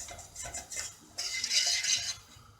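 Flour being roasted in a pan for a Kayseri-style aside dessert, a spoon scraping and clinking against the metal in irregular strokes, with a brighter stretch of steady stirring and scraping in the second half.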